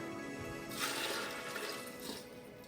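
Warm water pours and splashes into a container for playdough in a steady gush, close by and fairly quiet.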